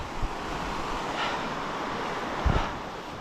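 River water at Dartmouth Rapids on the low Youghiogheny in Ohiopyle State Park rushes over boulders as a broad continuous roar, with wind buffeting the microphone in a couple of brief thumps.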